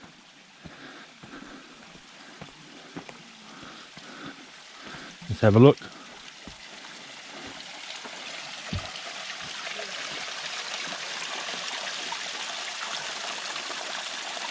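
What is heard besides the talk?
small mountain creek flowing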